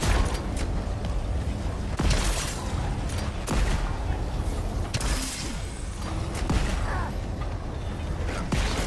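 Gunfire and explosions sound in the Crackdown 3 video game, with several sharp booming hits spread across a dense, noisy mechanical background.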